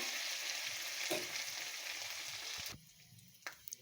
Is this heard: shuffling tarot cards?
no